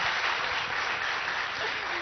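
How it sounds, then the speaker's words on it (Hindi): Studio audience clapping steadily and densely for two seconds in a TV studio during a live news interview, loud and continuous with no pauses. "किसी बात पे ताली नहीं बजी, इस बात पे बजी है"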